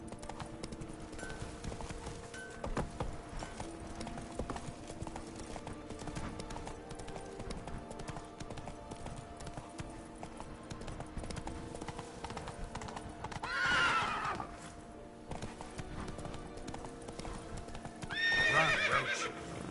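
A horse in The Witcher 3 gallops with steady, rhythmic clip-clop hoofbeats throughout, breaking into two loud whinnying neighs near the middle and at the end, with no talking.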